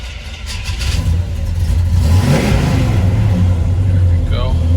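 A 1972 Chevrolet Chevelle with a rebuilt engine starts and revs, a deep, loud, close rumble that swells and then holds at a rough, throaty idle, with people talking over it.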